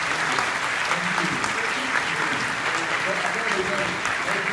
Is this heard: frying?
no